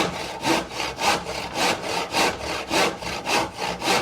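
Hand saw cutting through wood for a beginner planter box, about eight even back-and-forth strokes in a steady rhythm, close and loud with no talking.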